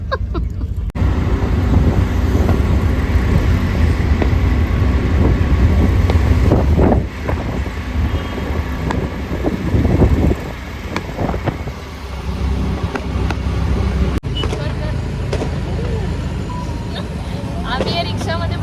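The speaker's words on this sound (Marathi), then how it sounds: "आम्ही या रिक्षामध्ये बसलोय" A ride in an auto rickshaw in Pune gives a continuous rumbling engine and road noise with buffeting wind against the microphone, steady and loud throughout, with voices now and then.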